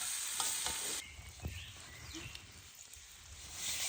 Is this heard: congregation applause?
no